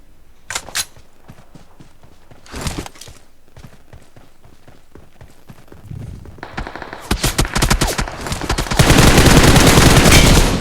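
Gunfire in a mobile shooter game, played on a GT20 Pro phone: scattered single shots early on, then dense automatic bursts that build into loud, continuous fire toward the end, with no talk.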